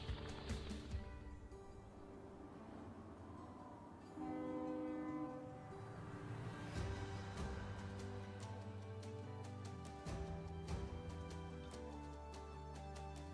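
A train passes with its horn sounding in long sustained tones over a rolling rumble of rail cars, fairly faint and steady, with no speech.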